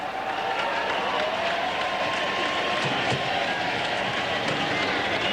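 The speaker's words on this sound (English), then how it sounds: "Roar from the Chicago crowd." A large crowd at the Arlington Million horse race near Chicago roars in a steady, dense wash of cheering and clapping, loud and continuous with faint voices blended in.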